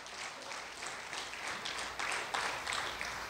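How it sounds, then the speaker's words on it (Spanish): A church congregation applauds in a steady, crowded clatter of clapping that swells slightly toward the end, with no speech on top. "Ese aplauso es para Cristo, hermano."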